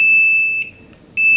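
Fluke Volt Alert voltage tester checking Christmas lights, giving a sharp high-pitched electronic beep, a brief gap, then another beep, loud and close.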